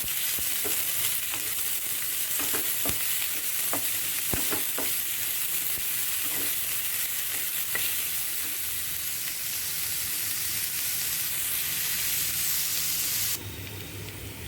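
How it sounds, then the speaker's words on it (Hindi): Chopped onion, ginger and garlic frying in hot oil in a pan, a loud continuous sizzle close up with occasional stirring clicks, easing slightly near the end. "ये प्याज, अदरक और लहसुन जो मैंने इकट्ठा करके रखा हुआ है, इसको मैं यहाँ डाल देती हूँ, और इसको मैं थोड़ा गोल्डन ब्राउन होने तक फ्राई करूँगी"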